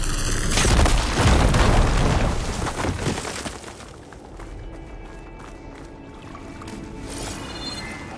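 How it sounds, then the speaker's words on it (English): A fire gleam blows up in the video game Horizon Forbidden West with a loud, deep boom that rolls on for a few seconds, then fades into a lower, crackling tail. "Should be able to blow up that fire gleam"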